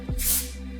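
One short, close hiss of dry shampoo sprayed onto hair, starting sharply and fading over about half a second above a low steady hum.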